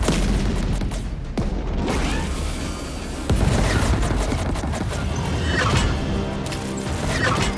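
Ships in the space video game Chorus open fire together, producing a loud, sustained barrage of booms, crashes and mechanical clanks, with a few sharp impacts standing out.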